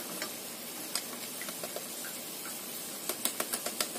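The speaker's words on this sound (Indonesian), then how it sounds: "Kita goreng yang selanjutnya." Potato snacks fry in hot oil with a steady, fairly faint sizzle, broken by light clicks and scrapes of stirring that come faster near the end.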